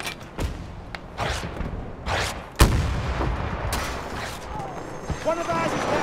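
Heavy gunfire and explosions in the Battlefield 2042 video game, with loud bursts, booms and scattered shots crackling through a battle scene while a player talks over the action.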